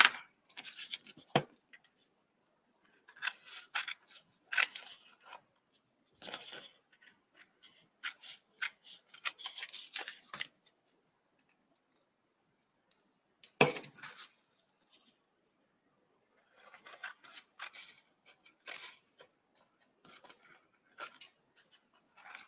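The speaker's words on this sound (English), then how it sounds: "So we just need to trim this up" Sporadic snips and rustles of dull scissors cutting paper, in short irregular bursts separated by quiet pauses, close by.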